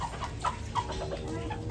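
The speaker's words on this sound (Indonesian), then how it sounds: "Nah ini ayam katenya, ayam kate tuh lucu-lucu." Bantam chickens, the small ayam kate breed, cluck and chirp in short scattered calls over steady background noise at a farm-park setting, a few notes standing out louder than the rest.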